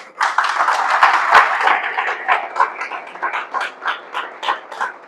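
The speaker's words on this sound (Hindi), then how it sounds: "इसके लिए ताली बजा दो एक बार जरा" An audience at a network marketing seminar breaks into applause, a burst of many hands clapping that thins into scattered, rhythmic claps before fading.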